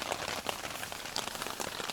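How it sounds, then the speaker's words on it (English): Rain falls steadily on a campsite at Crotch Lake on Canada's Mississippi River, a dense close patter of drops striking surfaces with no talking. "It's still raining."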